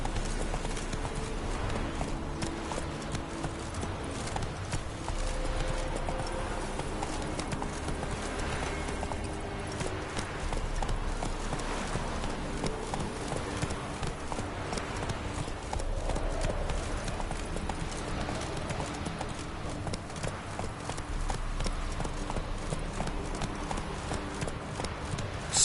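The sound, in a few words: horse galloping, from video game The Witcher 3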